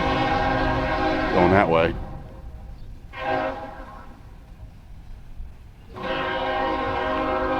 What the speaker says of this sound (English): But there are trains going through here constantly.